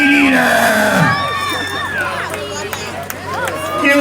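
Crowd at a barnyard animal race cheers and shouts for racing goats, with loud whoops, children's yells and babble up close, and a voice calling out over the noise.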